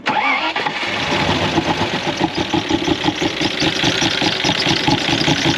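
A Land Rover Discovery engine cranks and catches, then settles into a loud, steady, slightly lumpy idle with a rhythmic pulse.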